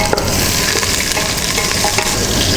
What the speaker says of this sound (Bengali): তেলটা গরম হয়ে গিয়েছে, এটার মধ্যে আমরা দিয়ে দিচ্ছি পেঁয়াজ